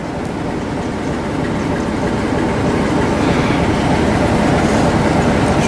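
A Thameslink Class 387 electric train, unit 387-123 coupled with 387-120, departs Preston Park station, its steady loud rolling rumble and wheel clatter building over several seconds with no talk.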